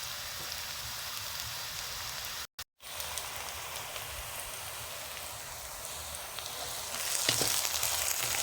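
Onions gently frying in a pan until soft and translucent, a continuous even sizzle like light rain, close and steady, with a brief cut partway through and a slightly louder crackle near the end; no voices.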